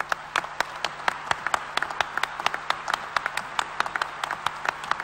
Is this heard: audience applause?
yes